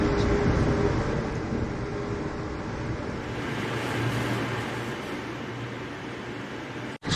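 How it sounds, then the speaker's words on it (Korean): Passenger train running from New York toward Chicago, heard from inside as a steady loud rumble and hiss of the moving carriage that cuts off abruptly near the end. "저 열차는 이제 뉴욕을 떠나고 있습니다."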